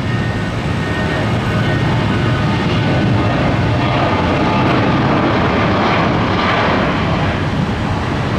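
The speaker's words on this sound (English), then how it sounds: "Meanwhile, 2574, the Delta that went around, is landing right now on 19 left." Delta airliner landing on runway 19 left at Tampa on a foggy morning, a steady loud broadband jet roar sustained throughout with no talk.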